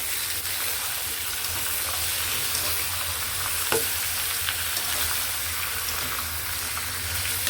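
Tomatoes for tomato thokku frying in about 150 ml of oil in a pan, a steady close sizzle with a faint stir or tap midway, no talking.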